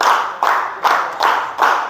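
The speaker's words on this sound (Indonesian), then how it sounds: "Tepuk 2 kali. Tepuk 3 kali. Tepuk 4 kali. Tepuk 5 kali." A group clapping in unison in a classroom ice-breaking game, five sharp broadband claps at steady intervals, fairly loud and close, with no voices over them.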